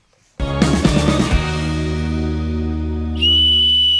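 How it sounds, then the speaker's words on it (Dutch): A small whistle blown on a rooftop to lure an escaped pet bird: a loud, close, sustained shrill tone with a warbling start, then a brief pause and a higher steady blast. "Met een fluitje en een lekker hapje hoopt Diego zijn vogel te kunnen lokken op het dak van de bijenkorf"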